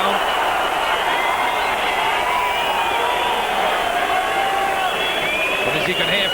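A boxing crowd at the Klitschko v Byrd fight roars in a constant dense wash of noise, with commentators talking over it throughout.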